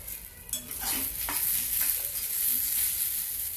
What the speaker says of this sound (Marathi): त्यातच टोमॅटो पण ऍड करू आपण, थोडासा फ्राय करून घेऊ त्याला